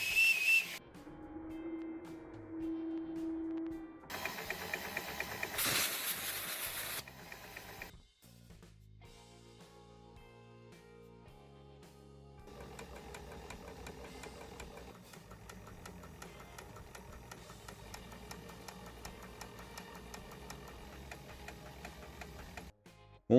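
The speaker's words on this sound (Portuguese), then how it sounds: "Um ferreiro inglês montou uma miniatura de uma máquina a vapor. Incrível ver isso em miniatura trabalhando." A blacksmith-built miniature steam engine runs steadily with rhythmic ticking and knocking mechanical beats, broken early by loud hissing steam bursts and a whistle-like tone, then settling into a continuous close clatter.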